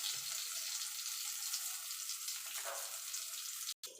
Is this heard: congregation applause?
no